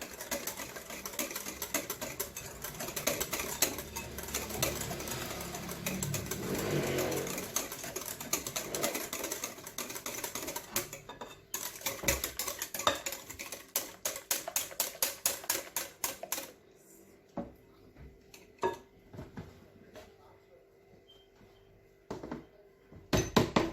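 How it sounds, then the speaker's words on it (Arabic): Lemon cake batter with banana flavouring is mixed by hand in a bowl, giving a long run of rapid, rattling, clicking strokes. The beating is close and steady at first, then breaks into quicker bursts with short pauses. "وغادي نخلط كلشي مزيان حتى كيتجانسوا العناصر"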